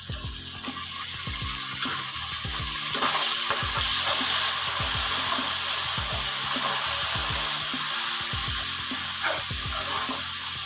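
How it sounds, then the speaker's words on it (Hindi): Water pours and splashes into a cooking pot of beef pulao with a steady gush, punctuated by occasional clinks and hisses, with no voices. "थोड़ा सा इसमें पानी ऐड करूँगी।"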